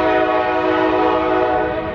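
A long freight train's horn blares in a sustained, steady chord at close range, loud and unbroken, with rail rumble underneath at a crossing in downtown Baton Rouge.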